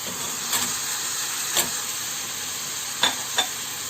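Beans tipped into a pan of sautéed onions sizzle and fry with a constant hiss, broken by a few sharp crackles and stirring clicks, close and alone without talk.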